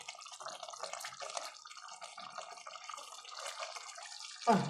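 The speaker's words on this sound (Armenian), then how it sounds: "Մի քիչ ջուր եմ ավելացնում," Water poured from a tap into a cooking pot, a steady trickling and dripping splash running throughout, ending with a louder thump near the close.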